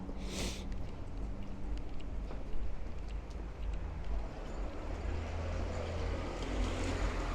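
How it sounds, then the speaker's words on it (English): Cold wind gusts across a Brooklyn street in Bensonhurst, a continuous low rumbling buffet on the microphone with broad hiss, steady and fairly faint. "It is cold when that wind blows."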